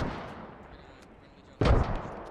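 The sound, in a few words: mortars firing in a video game, Operation Crazy Horse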